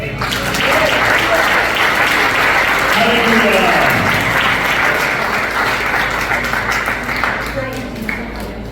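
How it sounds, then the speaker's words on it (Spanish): Congregation in a church breaks into sustained, loud applause that fills the space for several seconds, with a voice shouting out over the clapping and the noise tapering slightly toward the end. "¿Cuánto le dan un aplauso al Señor?"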